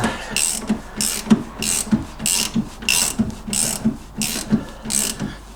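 A ratchet tightens the suspension bolts on an MGB, clicking up close in a steady rhythm of about eight short bursts, each a quick run of pawl clicks.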